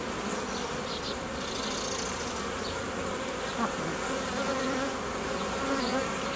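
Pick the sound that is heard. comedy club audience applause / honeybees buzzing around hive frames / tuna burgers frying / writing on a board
honeybees buzzing around hive frames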